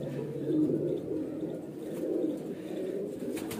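A highflyer pigeon coos close by in low, throaty, rolling murmurs that swell and fade in a soft continuous rhythm, with faint background noise.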